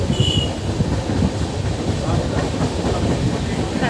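A passenger train runs on rails in a steady, continuous rumble with a faint rhythmic clatter, heard from inside close up and loud, with a brief high squeal early on and no clear talk.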